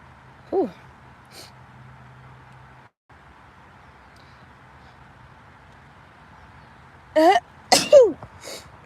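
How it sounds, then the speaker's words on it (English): A single sneeze bursts out near the end after a short inhale, loud and close, preceded by a quiet stretch with a faint earlier sound. "hold on, I gotta sneeze."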